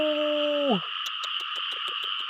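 A frog caught by hand in a wet field lets out a loud, sustained distress call that drops in pitch and breaks into a rapid series of short rasping pulses, close to the listener, with no talk over it.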